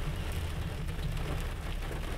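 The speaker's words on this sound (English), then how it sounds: "It's just a good plains thunderstorm." Steady rain from a plains thunderstorm falls through a dense, even hiss, with a low rumble of gusting wind beneath it.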